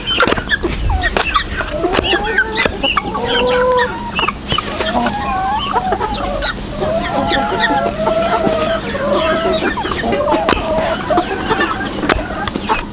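Chickens cluck and chatter nearby in a farmyard, a steady mix of warbling clucks with an occasional crow, while a person talks over them.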